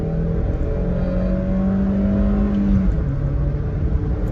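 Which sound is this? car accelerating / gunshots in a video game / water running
car accelerating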